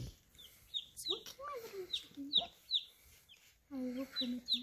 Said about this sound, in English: Everybody loves baby chicks.